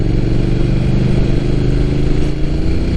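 A Triumph Thruxton Final Edition motorcycle rides along a road with a loud, close, continuous engine drone and a steady throbbing exhaust, with no talk over it.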